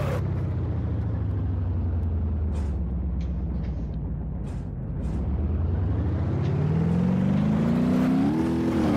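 A car engine in BeamNG drives up to a higher speed, droning steadily and then climbing in pitch as it revs and accelerates toward the end, loud and continuous.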